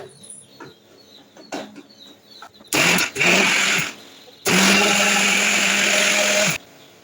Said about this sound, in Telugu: ఇదంతా మిక్సీ పట్టేసుకోవాలి.